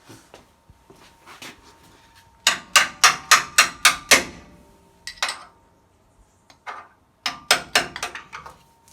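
A hammer strikes metal in quick bursts of five or six sharp, ringing blows, then pauses and starts again, working on a 1968 Chevelle transmission tunnel in a garage; close and loud with no talk.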